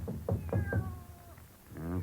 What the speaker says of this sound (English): Cats will meow for just no reason at all.